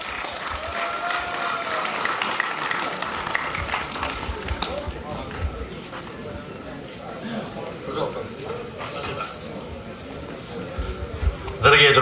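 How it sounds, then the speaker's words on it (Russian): Crowd applauding a guest at a Russian veterans' gathering, dense clapping under a talking voice and hall noise, fairly steady with a louder burst at the very end. "Аплодисменты гостю!"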